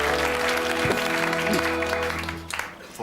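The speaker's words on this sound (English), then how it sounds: "Give him a big round of applause." A television studio audience claps loudly on a comedy chat show, the applause steady under a held musical tone before tapering off at the end.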